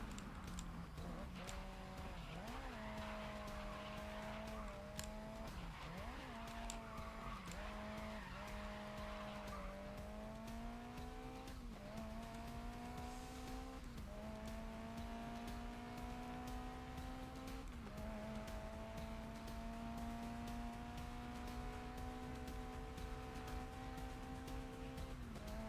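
Race car engines drone steadily throughout a racing video game, their pitch sliding up and down with gear changes, while long tire squeals and skids run underneath, loud and continuous with no talking.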